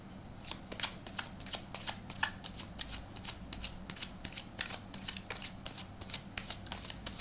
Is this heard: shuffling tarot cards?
yes